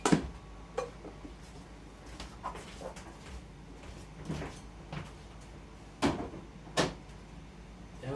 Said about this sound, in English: So I'll just stick this in the fridge.